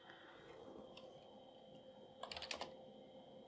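Typing on the keyboard of a Zetron 386SX computer, soft scattered keystrokes, then a quick cluster of sharper clicks near the end, close and fairly quiet with no talking.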